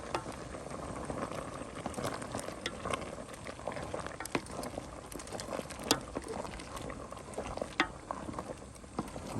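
A mushroom curry boils in a pot, giving a steady close bubbling and popping that continues throughout with no one talking.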